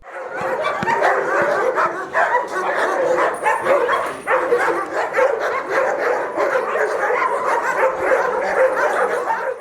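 A working dog being trained from puppyhood by a dog handler barks and yips in a steady, dense run of loud, close barks with whimpers mixed in, lasting throughout.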